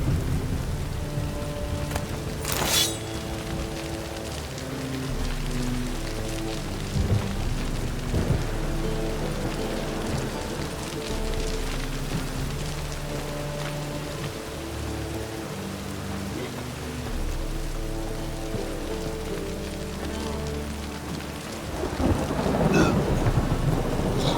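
Steady rain falling in The Witcher 3: Wild Hunt, a continuous hiss with low thunder rumbles, layered over sustained tonal music and swelling louder near the end.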